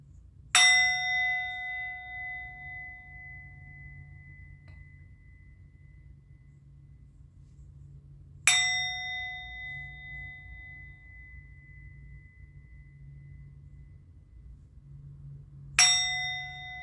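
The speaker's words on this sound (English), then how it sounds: "I'm going to ring the bell." A small bell struck three times at widely spaced intervals, each a clear bright ding that rings out and slowly fades into quiet room tone, with no talking.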